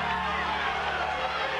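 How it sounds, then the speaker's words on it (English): A large sellout crowd fills the arena during the final round of a boxing match, a steady dense roar of voices and hubbub throughout, loud and continuous with no pauses. "crowd standing up, a lot of people here. It's a sellout crowd"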